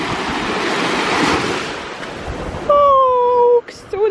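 Heavy surf on a Mallorca beach: a loud, dense wash of breaking waves with wind buffeting the microphone, followed near the end by a high voice over the water.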